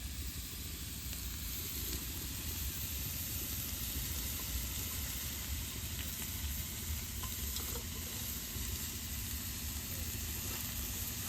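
Amrul greens and potatoes are stirred and fried in a pan. There is a steady close sizzle with a constant hiss and soft stirring scrapes underneath, and no talking.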